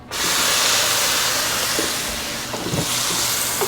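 Loud, steady hissing sizzle of mushrooms hitting hot melted butter, with a few crackles and pops rising near the end.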